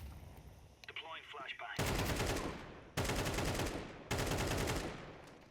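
In Counter-Strike 2, long loud bursts of automatic gunfire come in three sustained volleys, close and dense, after a quieter opening with faint clicks and scattered noises.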